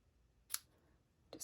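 Paper snips cut paper with two faint, quick snips about a second apart in a quiet room.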